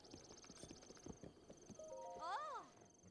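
Rhythmic hoofbeats clip-clop at a walking pace in Breath of the Wild, followed by a horse's whinny near the end, all fairly quiet.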